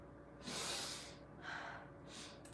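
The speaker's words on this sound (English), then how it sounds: "My sniffles are bad today" Three quick nasal sniffs from someone with allergies, each a short breathy hiss in a quiet room, close and soft, evenly spaced across a couple of seconds.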